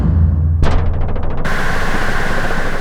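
Layered drum-sample percussion strikes at once, then fast repeating hits decay into a sustained wash of white noise from a Moog Spectravox. The combined texture stays loud and dense to the end, with no voices.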